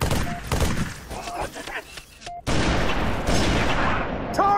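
Gunfire in the Xbox 360 shooter Halo 3 ODST, loud close bursts of weapon fire and impacts with short gaps, growing into sustained dense firing toward the end.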